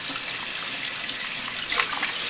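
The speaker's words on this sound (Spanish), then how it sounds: "Lo vamos a lavar otra vez muy bien con pura agua." Running water pours steadily over fish being rinsed in a home kitchen, a soft continuous trickle and splash close by, with slight surges toward the end.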